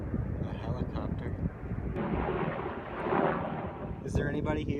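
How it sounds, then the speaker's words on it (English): A helicopter passes over a cemetery as a broad, steady rumbling wash of rotor and engine noise, moderately distant, with faint wind and a voice briefly heard. "A helicopter."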